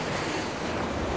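Ocean waves on the beach beside a seaside building, a dense steady wash of surf mixed with wind buffeting the microphone, with no voices.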